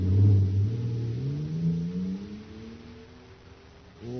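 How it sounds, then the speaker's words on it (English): Supercharged jet car sound effect from a radio drama, a loud rising engine whine with harmonic tones sweeping upward over about four seconds, then easing off before a brief surge at the end. "Listen to that fire-controlled jet car go now."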